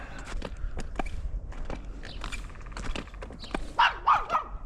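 A chihuahua behind a fence barks sharply several times in quick bursts, close by, with outdoor background noise throughout on a snowy, icy day in Gainesville, Texas.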